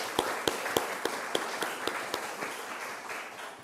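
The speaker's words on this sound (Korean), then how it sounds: "우리 또 격려의 박수 한번 드리겠습니다" A small church congregation at a Korean Sunday service gives a short round of encouraging applause, sparse distinct claps in a loose rhythm that thin out and fade.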